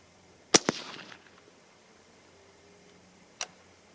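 A varmint rifle, a .17 Hornet or .22-250 Remington, fires outdoors with a sharp crack and a brief trailing echo, followed by a quieter second crack a few seconds later.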